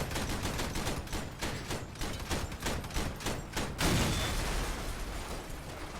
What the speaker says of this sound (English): try to shoot his guns off